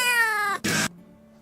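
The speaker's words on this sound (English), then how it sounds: "Love the meowing." A cat gives a single drawn-out, tonal meow that slides downward, then a short harsh burst, close and loud, followed by a faint lingering hum.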